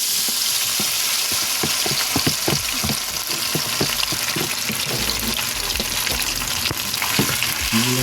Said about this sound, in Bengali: এখন আমি গিলাগুলো দিয়ে দিচ্ছি।